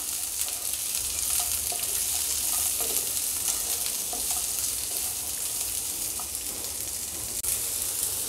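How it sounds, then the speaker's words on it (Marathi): Seven or eight green chillies roasting in a hot pan, a constant close sizzle and crackle with faint stirring scrapes running the whole time, no voices. "याला आपण भाजून घेऊया।"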